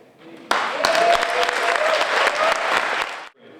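Audience applause at a poetry and music night in the Drill Hall starts abruptly and holds dense and even for about three seconds before cutting off, with scattered voices underneath.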